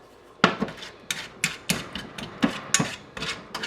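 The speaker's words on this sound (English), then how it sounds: "You can keep mashing until it's pureed." Fresh strawberries are mashed in a bowl with a utensil, a close, steady run of sharp clinking knocks against the bowl at a quick, uneven pace, with no talking.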